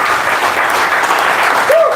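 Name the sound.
audience applause for John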